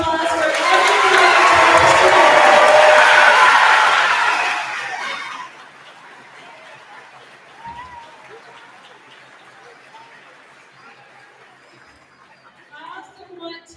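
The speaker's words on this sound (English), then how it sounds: "let's give all of them a round of applause for everybody" Loud applause and cheering from a school audience for a fifth grade graduating class at an awards and graduation ceremony, a dense burst lasting several seconds before fading to quiet room murmur.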